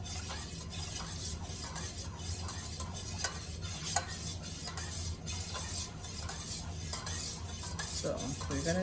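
Melted candle wax mixed with fragrance oil and color, stirred continuously in a container, a steady scraping, swishing stir with light utensil taps that runs on evenly throughout.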